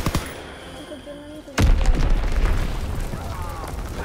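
Enemy bombardment in a video game: a heavy, close explosion booms in after quiet background tones, then rolls into a dense, rumbling crackle of further blasts and debris.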